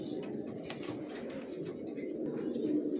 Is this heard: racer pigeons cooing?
yes